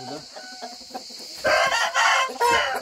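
Roosters and hens in a coop cluck and crow, the sounds starting as scattered soft clucks and then swelling into a loud, harsh crowing burst near the end.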